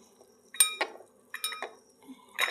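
A utensil clinks and scrapes against a bowl while food for an evening snack is mixed, in a few separate bursts of clattering at close range with quiet gaps between them.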